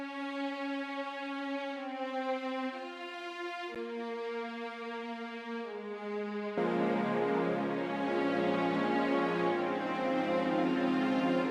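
Sampled orchestral strings from the Spitfire Albion One library play a slow sustained melody, first with sparse held notes, then swelling into a fuller, richer ensemble texture that carries on steadily.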